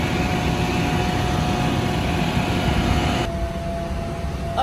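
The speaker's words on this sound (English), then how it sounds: "It's a really big plane." Steady broadband roar inside a large passenger airplane cabin in flight, a constant engine and air drone that drops slightly in level near the end, with no talking.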